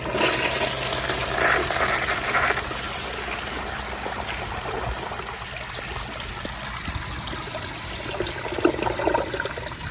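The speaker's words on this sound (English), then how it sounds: "So here is another flush with high pressure." A Universal Rundle Colby urinal flushing at high water pressure: a loud, rushing surge of water that swirls and trickles on for about ten seconds, heard up close.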